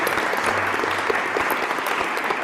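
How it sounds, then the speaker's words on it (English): A round of applause from the audience at the close of a panel discussion, dense steady clapping from a room of people, sustained and even throughout. "Let's give a round of applause to"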